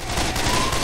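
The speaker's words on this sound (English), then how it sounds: "stop shooting me, all right?" Rapid gunfire from the video game Left 4 Dead 2, a dense unbroken burst of shots lasting under a second, loud and close.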